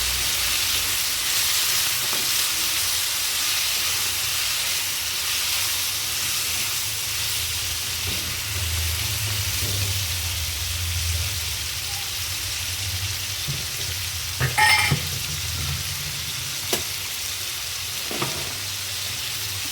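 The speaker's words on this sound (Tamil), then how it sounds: "இப்போ இது நல்ல எண்ணெயில் ஃப்ரை ஆகட்டும்." Brinjal curry with turmeric frying in oil, a broad steady hiss and sizzle that carries on throughout, with a few faint clinks of a utensil near the end, close, no talk.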